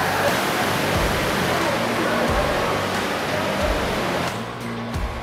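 Water fountains at a Las Vegas casino, heard as a loud, steady roar of falling and splashing water that fills the space, easing slightly near the end.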